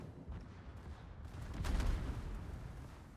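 A ship's gun salvo fires in the naval game World of Warships, a deep rumbling boom that swells in the middle of the clip over continuous battle noise.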